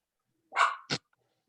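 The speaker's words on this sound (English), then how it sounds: "That's my dog helping me look." A dog barks twice close by indoors during a home video meeting, first a longer rough bark and then a short sharp one, with silence around them.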